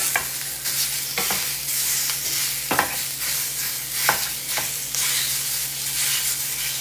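Sausages sizzle in a cast iron skillet as they are broken up, with a steady hiss of hot fat and repeated sharp scraping strokes of a utensil against the pan, close and clear, no talking.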